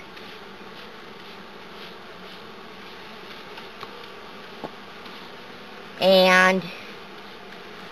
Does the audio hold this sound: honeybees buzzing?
yes